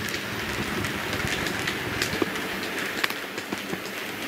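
A Hornby Flying Scotsman model locomotive, an LNER A3 in black, runs at moderate freight speed with a continuous whirring motor and soft rhythmic wheel clicks close by.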